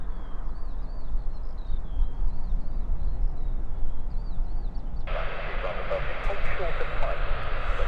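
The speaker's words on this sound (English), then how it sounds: "So we've got a Saudi aeromedical evacuation flight coming in." A Saudi aeromedical evacuation aircraft arriving at Stansted Airport, its engine noise a steady broadband roar that swells sharply in the second half, with voices talking over it.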